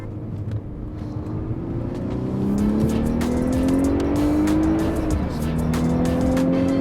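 A sixth-generation VW Golf R, under repair for a turbocharger fault, accelerates close by with a rising engine note that climbs steadily through the gears over a broad rumbling road noise.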